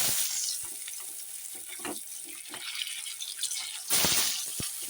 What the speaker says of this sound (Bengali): এবার আমি কড়াইতে লবণ দিয়ে দিচ্ছি আর দিয়ে দেবো একটু হলুদ দিয়ে এখন ডিমটা আমি ছেড়ে দিচ্ছি